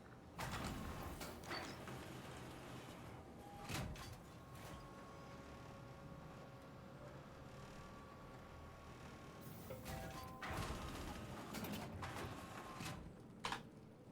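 An elevator in a space viking game runs with a long mechanical sliding drone, with door-like clunks at the start and end, moderately loud with no voices.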